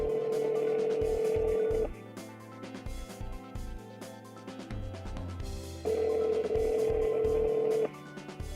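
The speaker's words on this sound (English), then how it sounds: "The system will begin dialing the type of number you selected." A Gen 10 car voice-command phone system places a call, with bursts of rapid dialing tones and two long, steady ringing tones, loud and clean with no talk.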